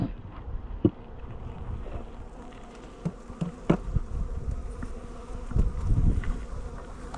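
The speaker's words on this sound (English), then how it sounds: "So these bees have been up here and cleaned all this" Honey bees buzzing around a hive during winter preparations, a dense steady drone with individual bees zipping close past the microphone, some light wind noise mixed in.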